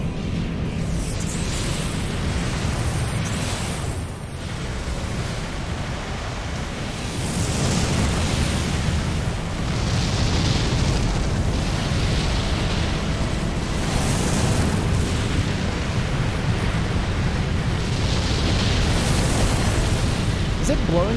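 Explosions of an Arms Fort in the video game Armored Core: For Answer, heard as a steady, dense roar of booms and rumbling blasts that swells and holds for the whole stretch, with no speech over it.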